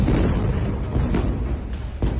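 Explosions during a raid on Al-Shifa hospital in news footage: a continuous loud, rumbling roar fills the clip, with a sharp boom near the end and no voices.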